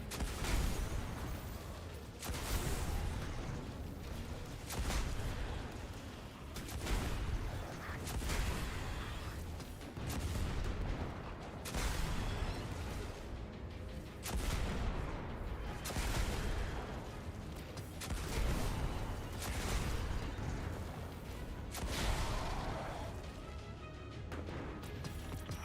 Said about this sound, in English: My favorite weapon, rocket launcher.